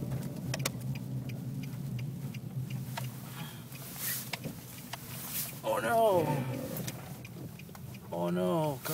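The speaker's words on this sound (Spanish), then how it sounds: "El carro se me está moviendo para los lados." A car drives over a snowy road and slides sideways, its engine rumbling steadily under exclaiming voices, with the engine note rising and revving as the vehicle loses grip.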